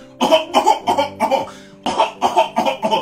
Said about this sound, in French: Je suis en train de tousser même